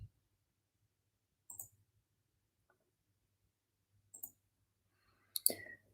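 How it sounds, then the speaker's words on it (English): Sparse clicking from a computer mouse: three short, quiet bursts of clicks separated by long silent gaps, close to the microphone with no voices. "I'm over here clicking and clicking."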